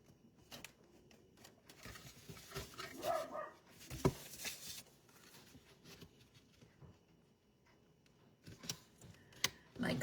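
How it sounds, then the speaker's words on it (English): A guard dog barks in scattered bursts indoors, mixed with shuffling and handling noises, with quiet stretches between the louder barks. "My guard dog is at full force, apparently."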